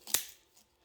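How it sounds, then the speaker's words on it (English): Sharp root pruning scissors snip once through bonsai roots, a single crisp close cut followed by a faint trailing rustle. "These are root pruning scissors anyway."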